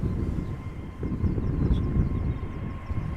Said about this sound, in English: on the left we have a 737 that is outbound to London Heathrow